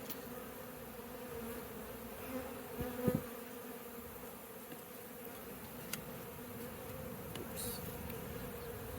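Honey bees buzz in a continuous, dense hum during a bee removal, with a few faint knocks and clicks over it.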